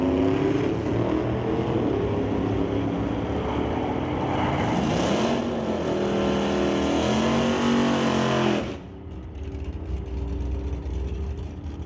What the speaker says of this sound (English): That 2024 Ford F-150 has been tried and true, and now gets set to gear up against Roland Lowen with the Lord Kawada Parts 1955 Meteor.